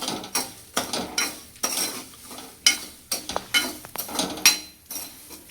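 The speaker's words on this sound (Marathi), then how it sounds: "त्याला हलवायचं आणि चांगलं खरपूस होईपर्यंत याला हलवून घ्यायचं" Peanuts being roasted for salted khare shengdane are stirred in a pan, giving close, rhythmic scraping and rattling strokes roughly every half second with short pauses between them.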